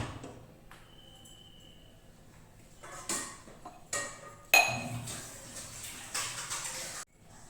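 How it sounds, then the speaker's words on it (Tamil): Thick wheat kali is stirred in a metal pot over a low village-style flame: a quiet stretch, then bursts of scraping and clinking utensil strokes that come in uneven, close-up spurts. "திரும்பியும் வந்து நல்லா கிளறி விட்டுட்டு திரும்பவும் அடுப்பில் சிம்மில் வச்சுட்டு கொஞ்சம் கிண்டுவேன்னு சொல்லியிருக்கிறாங்க"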